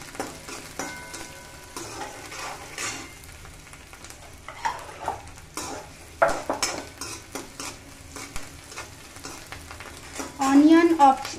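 Chopped onion dropped into hot oil and frying in a pan for momo chutney, a crackling sizzle with repeated scrapes and clinks of a spoon stirring against the metal, close and fairly loud.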